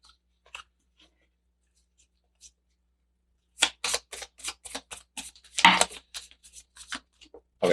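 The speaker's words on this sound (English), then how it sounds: "it's hard for me to shuffle with a smaller deck" A small Marseille tarot deck is shuffled by hand after a quiet stretch, giving a busy run of crisp, rapid card riffles and slaps, close and clear.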